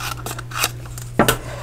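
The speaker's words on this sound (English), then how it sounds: "I need to cut this off just a tad" Scissors trimming a small paper craft tag, a few quick close snips with light metallic clicks over a faint steady hum.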